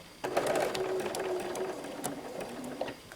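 A sewing machine runs in quick bursts of stitching in reverse while binding a quilt, a close mechanical whir with rapid needle clatter that stops and starts.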